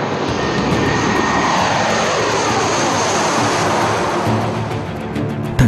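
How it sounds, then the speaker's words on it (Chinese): An early warning aircraft carrying a balance-beam radar mount roars down a runway on takeoff, its engine noise loud, broad and continuous throughout with no voices. "顶着平衡木的预警机在跑道上呼啸着冲上云霄"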